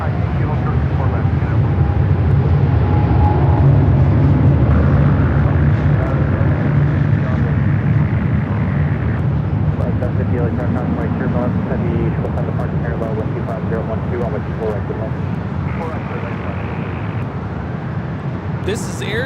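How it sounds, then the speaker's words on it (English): An Air China Boeing 777-300ER bound for Beijing takes off at LAX, a loud sustained jet roar that slowly fades as it climbs away, with someone talking over it. "988 taking off to Beijing on the 777-300ER"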